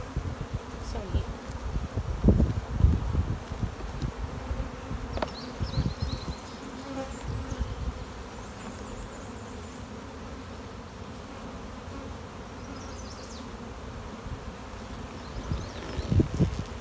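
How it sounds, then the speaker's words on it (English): Honeybees and drones buzz continuously from an open hive during a beginners' inspection, a steady close drone with a few louder passes near the listener and brief handling sounds. "Is this a bee? That's a drone. Two drones right next to each other there."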